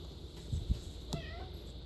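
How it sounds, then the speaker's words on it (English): A cat at a catnip session with several cats, giving one short, fairly soft meow partway through over low background rumble and faint bumps, with no voices. "Oh, here come 2 more cats."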